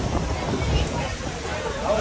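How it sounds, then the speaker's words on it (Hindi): Strong wind blows outdoors beside a river on the Narmada pilgrimage route as a storm rolls in, a steady, loud rushing roar buffeting the microphone with no pause over the whole stretch. "बहुत जोर से हवा चल रही है यहाँ पे अभी, अचानक ही बहुत जोर से हवा आने लगी।"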